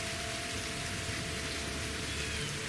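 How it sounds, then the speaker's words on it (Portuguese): Steady rain falling in a Mistérios da Ilha Grande game, a dense even hiss of drops on surfaces with no pauses, close and enveloping, with a faint distant rumble underneath. "Brutal o som da chuva."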